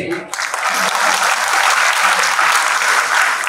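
A live audience at a Marathi poet's speech breaks into loud, sustained clapping that swells quickly and holds as a dense, continuous roar of many hands.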